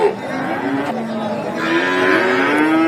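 A large cow at a cattle market lets out a long, loud, drawn-out moo close by, its pitch rising toward the end, with no talking.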